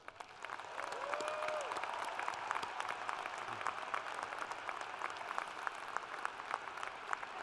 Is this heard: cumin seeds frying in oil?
no